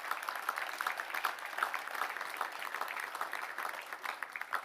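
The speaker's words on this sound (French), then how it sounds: "Et on peut applaudir" Audience applause at a mayor's New Year address, a dense, steady clapping from a crowd throughout.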